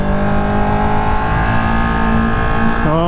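A 2018 Ducati Panigale 1299R Final Edition engine runs loud and close while riding on the street, holding a steady high drone with a sharp pitch drop near the end as the revs change.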